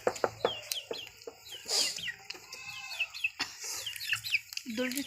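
A chicken clucks and squawks close by while being caught, its calls scattered among other faint bird sounds and light background noise, with voices murmuring at times.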